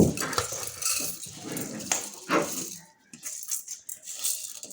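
Dry rice grains pour and rattle into a small saucepan lined with aluminium foil, with close crinkling, scattering and light scraping in short irregular bursts before a brief pause.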